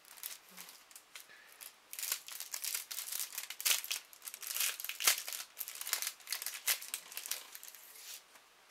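Wrapping crinkles and crumples as a surprise parcel of Easter treats is opened, in close, irregular bursts of rustling and tearing at a soft level, with no talk.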